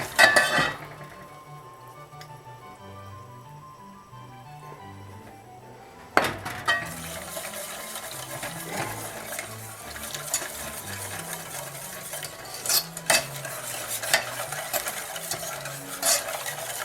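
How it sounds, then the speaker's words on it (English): A spoon clinks and scrapes around a bowl, blending honey and milk for cinnamon roll dough; after a quieter opening the rhythmic stirring grows louder and continues steadily, with occasional sharper clinks. "Mix this together."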